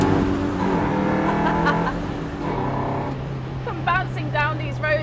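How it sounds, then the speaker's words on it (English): Lotus Elise S1 sports car driving on bumpy country roads, its engine a steady hum beneath a loud, continuous sound with shifting tones, a faint voice also present. "Bouncing down these roads, and although it doesn't have the most power in the world, it's just fun."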